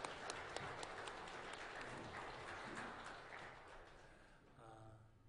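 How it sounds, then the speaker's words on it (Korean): A church congregation applauds the choir during Sunday worship, a faint, steady patter of many hands that tapers off as a voice begins at the end. "우리 박수로 좀 격려하셨으면 좋겠습니다."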